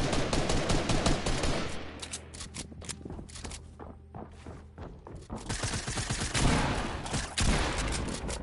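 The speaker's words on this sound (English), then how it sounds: "You heard that sniper shot, right?" Rapid bursts of video game gunfire fill the scene, with dense, loud repeated shots at the start and end around a quieter stretch of scattered cracks. A sniper rifle shot is somewhere in the mix.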